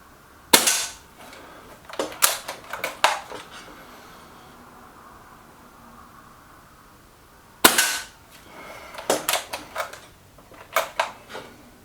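Two sharp shots from a Reximex Regime air rifle firing Gamma Pro Hunter pellets, each a loud crack followed by a string of fainter mechanical clicks and clatter, with a quiet pause between them.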